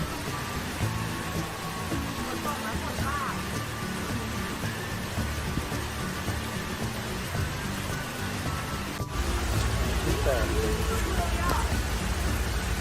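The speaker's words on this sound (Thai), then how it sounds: "ฝนตกด้วยอากาศเย็น" Steady rain falls on a cool day as a broad, even hiss fills the whole stretch, growing denser and louder in the last few seconds, with people talking over it.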